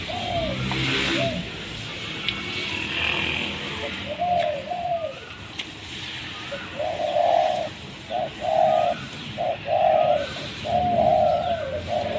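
Decoy birds offered for sale give repeated short coos in a broken rhythm, close and clear, with a faint bird call or two near the start and no talking.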